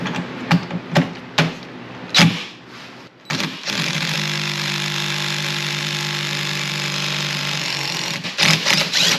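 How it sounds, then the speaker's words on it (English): A power impact gun works on a steering wheel bolt, opening with scattered sharp knocks and clatter, then a sustained loud rattling burst of several seconds before more brief hits. "there is a bolt there that we'll probably use the impact gun on to get off"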